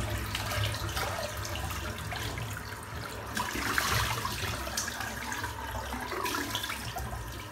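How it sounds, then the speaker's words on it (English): Tap water runs steadily into a sink while a man rinses shaving soap off his face after a shave, with close splashing and trickling and no voice heard. "See how the post shave feels once I rinse my face off here."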